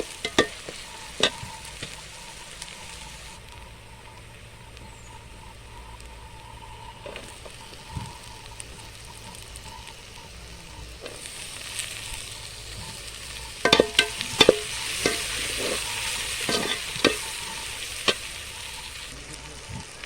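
Tomatoes sizzle quietly in a pan while a utensil stirs, with scattered clicks and scrapes growing busier toward the end.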